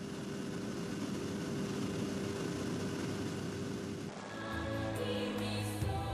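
A propeller airplane flies high over 6,000-meter Himalayan peaks near Everest, its steady engine drone held at a constant level before the tone shifts and rises slightly near the end.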